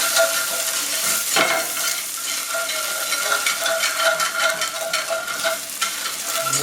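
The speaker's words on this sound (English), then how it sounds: "we'll just stir this up to make sure we pick up these crusty bits as it smelts" Green onions are stirred through melting butter in a pan with crusty steak bits for Diane sauce: a continuous close sizzle with scraping stir strokes, no talking.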